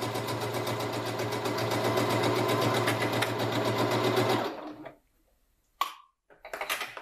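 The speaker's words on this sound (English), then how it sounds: "I'm keeping the edge of my presser foot close to the edge of the fabric here to use as a guide so that I'm sewing my half inch seam allowance." Sewing machine stitching a straight half inch seam on a fabric drawstring bag, a close, even, rapid motor hum with steady needle beats, then cutting off, followed by brief clicks and handling sounds.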